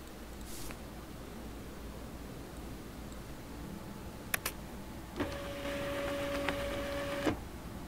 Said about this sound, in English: Now I have to print this fast and get the hell out of here.